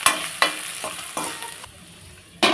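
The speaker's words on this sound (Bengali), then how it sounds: "আমি একটু তাড়াতাড়ি হওয়ার জন্য এইভাবেই কিন্তু সবজিগুলোকে ভেজে নেব" Vegetables for pasta frying and being stirred in a pan, with a few sharp scraping strokes over a steady close sizzle and no talk.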